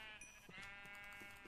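A sheep in Minecraft bleats in a sustained, wavering cry lasting the full moment, close and clear with no talk over it.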